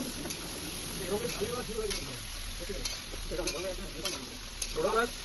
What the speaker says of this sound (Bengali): তেলটা গরম হয়ে যেতে মাংসগুলোকে ভেজে নিচ্ছি